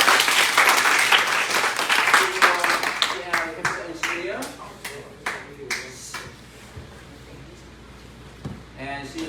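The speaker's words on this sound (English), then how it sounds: "please give her a big applause and welcome her" An audience at a youth summer camp morning Dharma lesson in a Buddhist temple claps loudly to welcome a speaker, then the applause thins into scattered claps and fades under a voice starting to talk.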